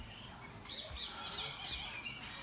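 A small yellow bird chirps at an ecological farm in Hsinchu, Taiwan, giving a run of quick, bright tweets at moderate distance over faint outdoor background noise, with no one speaking.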